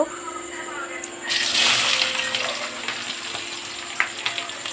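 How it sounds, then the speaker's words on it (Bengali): Onions sizzle in a pan of hot oil tempered with cumin, dried chilli and green chilli for onion posto, a close, steady frying hiss that swells briefly as they hit the oil and are stirred. "এবার পেঁয়াজটা দিয়ে দিচ্ছি পেঁয়াজটা ভাজা ভাজা করে নেব"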